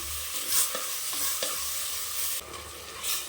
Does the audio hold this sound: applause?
no